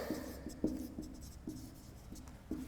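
Marker or chalk writing on a board in a lecture on Indian economy land reforms: faint, regular strokes and taps recur about every half second, soft and close against a quiet room with no talking.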